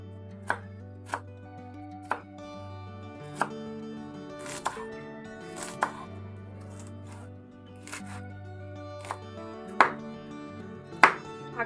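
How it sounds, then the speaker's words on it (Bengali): A knife chops bathua greens and coriander on a board with firm, evenly spaced thuds, each chop distinct, close and moderately loud over a quiet background. "এবার চটফট করে কাটাকাটি পর্বটা সেরে নিই"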